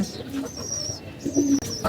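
Kept pigeons coo in soft, low rolling phrases nearby, with a couple of brief higher tones and faint background noise.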